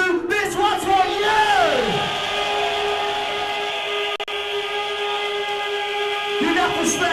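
Rave crowd at a hardcore event blowing whistles: a sustained high steady whistle tone with layered harmonics holds loud and continuous throughout, with crowd noise and a falling tone early on.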